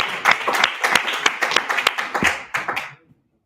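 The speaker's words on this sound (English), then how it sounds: "So give them a round of applause." Applause from a classroom audience for a presenting student team, a small group clapping briskly and unevenly up close before it stops abruptly into silence.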